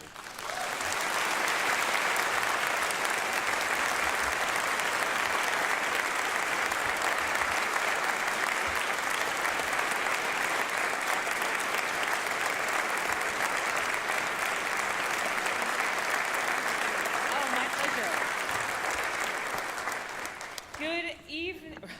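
A large audience at a Virginia education and workforce conference bursts into loud, sustained applause welcoming a speaker, a dense even roar of clapping that holds for about twenty seconds before tapering as a voice begins at the end.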